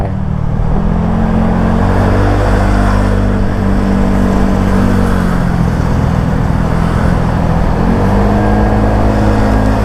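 A Honda Giorno+ 125 scooter fitted with an aftermarket exhaust, heard while riding, gives a loud continuous engine drone with small shifts in pitch, mixed with steady wind roar and no speech.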